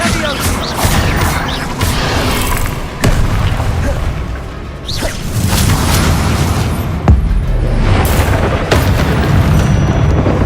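Repeated booming spell blasts from Confringo in Hogwarts Legacy: several loud explosive bursts with crashing debris, spaced irregularly through a dense, noisy fight.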